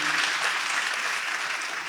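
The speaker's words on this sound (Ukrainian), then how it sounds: "Давайте також привітаємо оплесками." A studio audience applauds Paralympians with steady, dense clapping that holds evenly for the whole stretch, fairly loud and close, without any voices over it.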